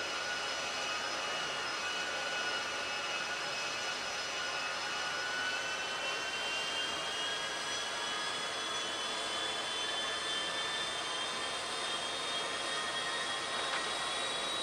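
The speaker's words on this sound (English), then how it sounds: "Hopefully I still remember how to fly a plane." A jet airplane engine in GTA 5 roars steadily throughout, a dense sustained whine and rush with slowly rising tones, loud and unbroken with no pauses.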